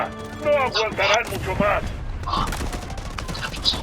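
Rapid gunfire in the mobile shooter game Delta Force Mobile crackles in bursts beneath a player's excited talking.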